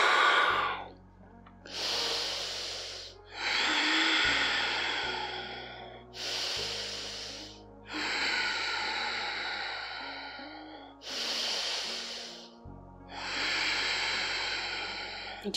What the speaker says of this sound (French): c'est la respiration Ujjayi